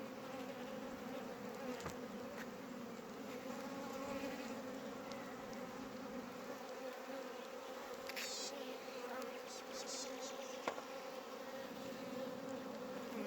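A steady, dense hum of many honeybees buzzing close by around an emerging queen bee, droning continuously with a few sharper wingbeat flickers.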